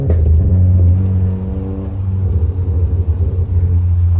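A fully modified Skoda Superb driving with an aftermarket exhaust, a loud, deep, throbbing engine rumble that swells and pulses as it revs, close up and with no voices.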